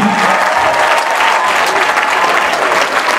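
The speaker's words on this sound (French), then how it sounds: "Il faut l'applaudir jusqu'à ce qu'il arrive ici, je dis." Crowd applause at a speech event, loud and close, a thick continuous roar of many hands clapping with a few voices mixed in.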